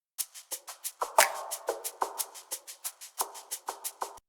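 A looping percussive worship music groove in 6/8 of evenly spaced hits in a lilting triple-feel rhythm, with brighter accents every few beats, steady and fairly close.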